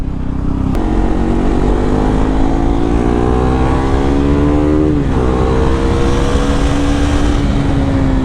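A KTM 390 motorcycle engine drones loudly and steadily while riding through city streets, its pitch climbing through gears with a brief dip near five seconds, alone with no talk.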